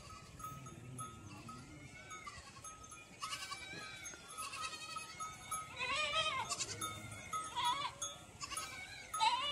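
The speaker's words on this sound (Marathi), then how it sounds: "बकऱ्या आल्या. आता चला बकऱ्या वगैरे बांधायच्या घरच्या" Goats arriving home in the evening in a village bleat repeatedly, their calls rising near and far over a background clatter like cowbells and farmyard movement.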